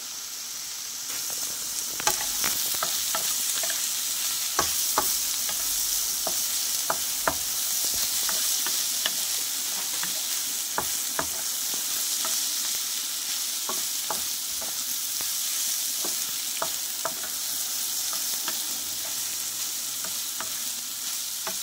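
Snake gourd and egg fry in a pan in village style, a steady hiss broken by frequent sharp scraping clicks of a spatula stirring.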